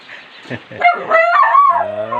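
Pet chickens clucking and calling close by, a few short squawks rising into a longer, tonal honking cry near the end, with faint background sounds around them.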